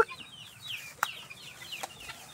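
Free range chickens cluck in a backyard, with several short calls scattered over light outdoor background noise, one sharper call standing out near the middle.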